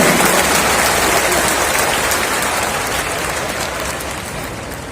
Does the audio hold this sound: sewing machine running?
no